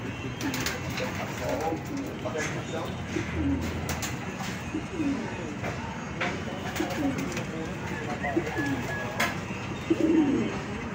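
Pigeons in a racing pigeon loft coo softly and repeatedly over a steady background hum, with faint voices in the distance.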